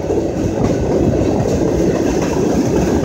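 A long train rumbles steadily past at close range, its wheels clattering in a continuous heavy roar with no letup.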